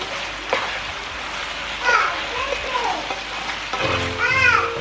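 Food tossed together in an electric skillet with the lid off, sizzling steadily under scraping and stirring. Children's voices and chatter carry in the background.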